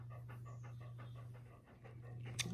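Quick, steady panting from two dogs, close by, over a constant low electrical hum, with a brief sharp noise near the end.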